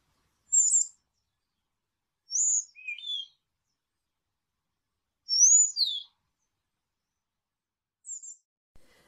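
Short bright chirps from a house sparrow, alone in a quiet setting, arriving in four separate brief bursts spaced a couple of seconds apart.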